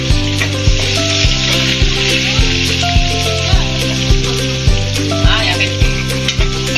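Onions frying in a pan, stirred so the sizzle pulses with regular scraping strokes about every half second, loud and close with no voices.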